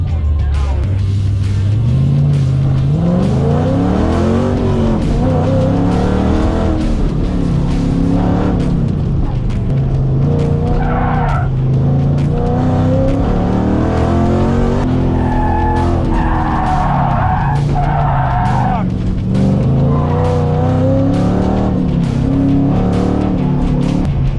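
Car on an SCCA autocross run, engine revving up and down through gears with repeated tire squeal and skidding, loud and close throughout.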